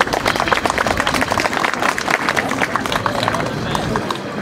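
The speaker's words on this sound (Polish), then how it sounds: "Brawa jak najbardziej wskazane." Crowd applause at an outdoor ghetto commemoration in Radzyń Podlaski, loud close clapping from many people mixed with crowd murmur and movement, continuous throughout.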